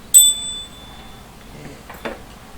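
A small bell rings once with a bright, clear ding that fades, followed by faint clinks and soft handling noises.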